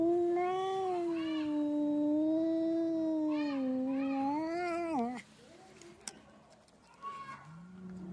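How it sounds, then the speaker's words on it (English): A kitten gives one long, wavering, drawn-out meow lasting several seconds, fairly faint and close, followed by quiet room sounds and a few soft clicks. "Meow, meow."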